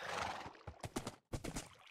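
A horse in a Minecraft Hunger Games match, a short burst of game horse whinnying and clip-clop hoof sounds, close and alone with no talk.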